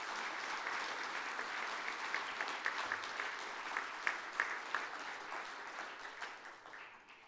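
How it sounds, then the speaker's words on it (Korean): Sustained audience applause at the 2022 Samsung Ho-Am Prize award ceremony, a dense steady clapping from a large hall crowd with a few sharper claps standing out, tapering slightly at the end. "수상하신 모든 분들께 다시 한번 축하의 박수 부탁드리겠습니다"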